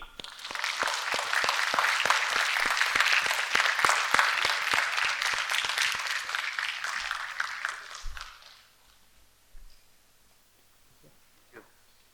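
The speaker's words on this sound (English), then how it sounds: "Please join us with a thunderous round of applause in welcoming your first host" An audience at a hosted show applauds to welcome the first host, a dense burst of clapping for about eight seconds that fades out, leaving near silence with a few faint scattered sounds.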